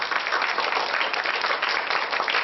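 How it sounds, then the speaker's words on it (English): Steady audience applause at a congressman's recognition of middle school science bowl students, a continuous even wash of clapping with no speech on top. "Amid applause and flashing cameras"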